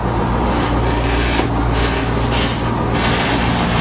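A 7.3 diesel school bus idles after a cold start in February snow, its engine a loud, continuous low rumble close by with no speech.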